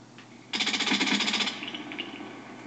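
A suppressed Uzi submachine gun fires a short, rapid burst in Call of Duty: Black Ops, a dense rattling volley lasting about a second, then a fading tail with faint game ambience.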